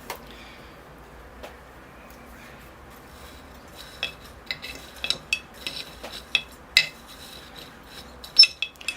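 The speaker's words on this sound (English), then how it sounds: "here goes my base layer of soil in the pot" Soil poured and pressed into a ball-shaped bonsai pot, heard as scattered gritty clicks and small rattling taps that grow busier and louder, close by against a quiet background.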